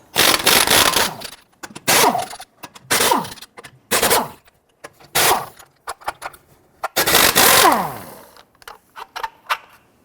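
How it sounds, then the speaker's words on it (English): Bursts of an impact wrench spinning off the 21mm lug nuts on a Nissan Frontier front wheel, several loud rattling runs with short pauses between, ending in a few brief clicks. "Using a 21mm socket, go ahead, loosen and remove your lug nuts."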